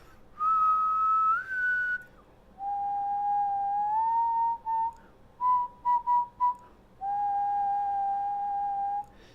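A person whistles clear tones at different pitches to control an Arduino circuit: long held notes, a sliding tone and a few short chirps, separated by brief pauses, close and fairly loud in a quiet room.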